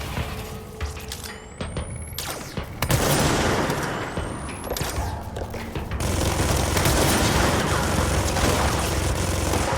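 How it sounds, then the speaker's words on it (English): Rapid sustained minigun fire in the video game Control, a dense roaring stream of shots with impacts and booms, loud and continuous, swelling heavier in the second half with brief whooshing sweeps, no voice over it. "he's got the minigun"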